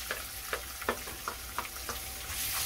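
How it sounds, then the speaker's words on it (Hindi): Onions fry in a pan with garlic and ginger, giving a steady soft sizzle with light clicks of stirring at a regular pace, close up and without talk. "अब मैं इसमें डालूंगी अनियन।"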